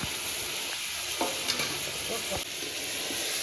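Boiled egg and potato sauté with chopped peperomia stems in a hot pan, giving a continuous close, loud sizzle broken by a few spatula scrapes and clinks.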